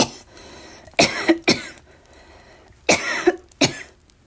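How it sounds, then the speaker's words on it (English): A narrator performs four harsh coughs in two pairs, near and loud with quiet pauses between, in a reading of Poe's The Cask of Amontillado set in nitre-encrusted catacombs. "How long have you had that cough?"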